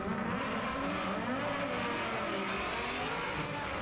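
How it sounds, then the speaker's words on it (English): A Mazda Miata and a Ford Mustang race at Irwindale Speedway, tires squealing under a distant engine roar, faint and continuous with no voices. "going to see how that little Miata keeps up behind that big old Mustang"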